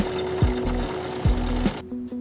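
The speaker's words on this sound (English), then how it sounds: "Controlled stitching creates strong, clean connections." A sewing machine stitching python leather components in a leather goods workshop, its motor whirring steadily with repeated rising and falling pitch sweeps as the needle runs in short bursts, then stopping near the end.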